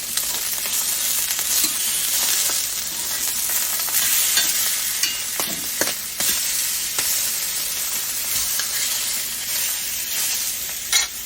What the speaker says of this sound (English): So we're going to wait till these get nice and seared really good and flip them over.